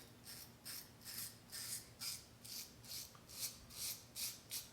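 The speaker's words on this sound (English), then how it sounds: "Against the grain, skim coat. Don't scrape, but skim like this." A razor skimming against the grain over a lathered face while shaving, making short raspy strokes repeated about ten times in an even rhythm, close and faint.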